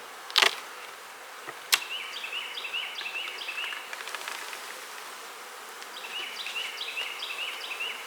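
Honey bees hum around an open hive during feeding of a cell builder colony, a steady mid-pitched drone with faint bird chirps overhead and a couple of sharp knocks near the start.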